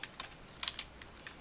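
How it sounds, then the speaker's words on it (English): A file name is typed on a computer keyboard, a quick run of soft, faint key taps in an uneven rhythm. "begin typing the name of the file"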